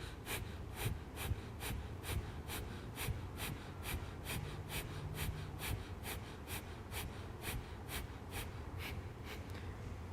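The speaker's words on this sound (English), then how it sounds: "Take a deep inhale through your nose. And begin breath of fire. Keep pumping your lower abdomen with each exhale." Breath of fire yoga breathing, rapid rhythmic nasal exhales pumped from the lower abdomen, a steady fast pulse of short breaths repeating evenly throughout, close and soft.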